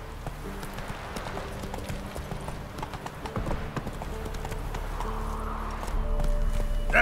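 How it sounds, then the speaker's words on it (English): A horse's hooves clip-clop in The Witcher 3 video game, a steady close rhythm of hoofbeats that quickens and grows louder toward the end, with brief speech over it. "Whoa there, Roach"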